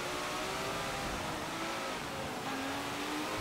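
Porsche 918 all-wheel-drive hypercar racing at Suzuka in Forza Motorsport 7, a steady loud engine roar with broadband road noise, pitch holding then shifting slightly near the end.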